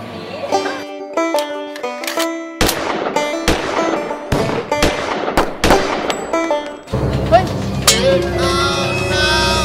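Sharp bangs and clanks from a shooting gallery at Mimosa Pattaya go off in irregular bursts, some in quick clusters, with busy arcade-like electronic tones and background noise throughout.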